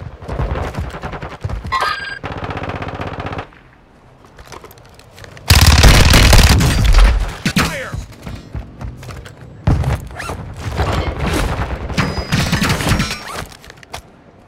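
Bursts of gunfire in Call of Duty: Warzone 2.0, with loud, dense rattling volleys and sharp shots separated by brief quieter gaps, close and aggressive throughout.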